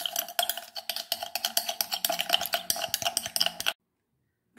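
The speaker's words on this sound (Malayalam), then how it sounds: "ഇനി നമുക്ക് നമ്മുടെ അലോവേരയും ക്യാപ്സ്യൂളും കൂടി നന്നായിട്ട് മിക്സ് ചെയ്യാം." Aloe vera gel and capsule contents being mixed in a bowl, heard as quick repeated scraping and clinking of a utensil in a fast steady rhythm, close and alone, stopping abruptly near the end.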